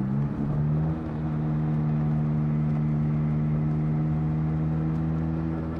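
Engine of a 2005 Ferrari F430 Spyder downshifting, a dip in revs followed by a steady, close, even drone with a strong low hum, no voices.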